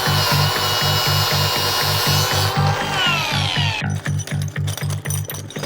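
Power cutting tool working through an 18650 lithium-ion battery cell, a loud pulsing mechanical rattle with a high whine that drops in pitch as the cut proceeds, then rougher choppy grinding near the end, no talk.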